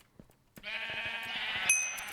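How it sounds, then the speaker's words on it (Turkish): Blocky video-game sheep in CraftRise gives a single drawn-out bleat, loud and close, with a short click or two before it and no talk over it. "Beyaz koyun."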